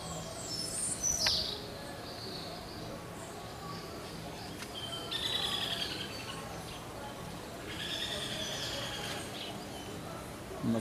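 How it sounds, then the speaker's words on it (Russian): Birds calling and chirping at dawn around a hotel in the Dominican Republic, scattered bright high chirps over a faint steady ambient hum, fairly distant and without speech. "Поют птицы."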